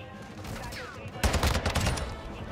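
Taq V rifle gunfire in Call of Duty Modern Warfare 2, a sudden loud burst of rapid automatic shots following a quieter stretch of gameplay ambience.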